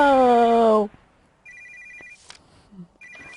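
A phone rings in a room with two short bursts of a bright, repeating electronic tone, preceded by a loud harmonic chime and followed by faint background rustling.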